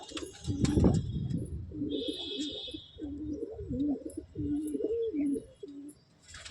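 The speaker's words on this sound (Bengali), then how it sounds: "দেখুন বন্ধুরা ভাই প্রথমে দুটো সবুজ পায়রা শখ করাচ্ছে" Pigeons kept in a home loft, including a pair of green pigeons, coo softly in repeated throaty phrases. Faint chirps rise above the close, gentle rhythm, with no talking.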